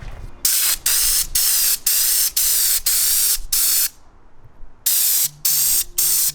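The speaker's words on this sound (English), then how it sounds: "I just finished up spraying" Loud bursts of a spray gun hissing as it sprays Raptor bed liner onto a Sprinter campervan, in repeated short passes separated by brief pauses and one longer gap, very close.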